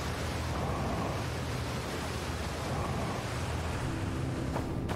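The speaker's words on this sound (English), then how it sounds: "I have to avoid this waterfall if I want to get out of here." Steady, loud rushing roar of a waterfall in the space exploration game Outer Wilds, a broad continuous wash of falling water filling the whole stretch with no pauses.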